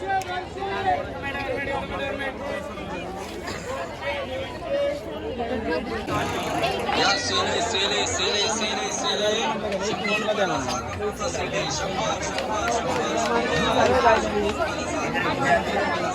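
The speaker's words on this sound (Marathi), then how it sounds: "गर्दी बघू शकताय गाईस किती गर्दी आहे" Busy crowd chatter fills the Tulshi Baug market in Pune, a dense, continuous babble of many nearby voices with shoppers moving close to the listener.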